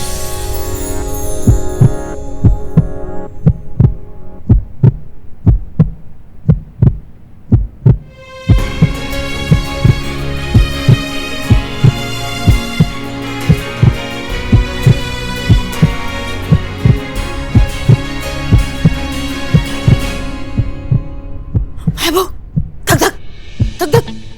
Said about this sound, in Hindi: तुझे मेरे दिल की धड़कन सुनाई दे रही है?